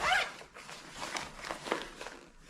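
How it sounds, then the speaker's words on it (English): Underarm ventilation zip on a double-layer waterproof jacket, heard as a few short, close rasping zipper pulls in a quiet room, strongest at the start. "And it does have underarm zips."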